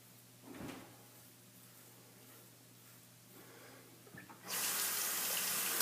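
A lathered safety razor fitted with a Feather blade, a Shavecraft 102, is rinsed under a running tap: a brief clatter, then a loud steady rush of water that sets in near the end and keeps going, with no talking.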